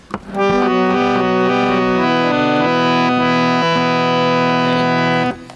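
A reedy harmonium plays a slow, sustained melody, notes shifting smoothly over a held drone, loud and close with no voices.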